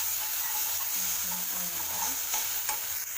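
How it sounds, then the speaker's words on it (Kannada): A fried dosa mixture with tomato sauce is stirred in a hot pan, a close, continuous sizzle with scraping spoon strokes moving through it. "ಟೊಮೊಟೊ ಸಾಸ್ ಹಾಕ್ಕೊಂಡು ಮತ್ತೆ ನೀಟಾಗಿ ಮಿಕ್ಸ್ ಮಾಡ್ಕೊಳ್ಳೋಣ"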